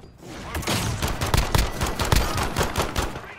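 Rapid gunfire during a Call of Duty Modern Warfare multiplayer gunfight: dense bursts of sharp, loud shots crack in quick succession throughout, with no talking over them.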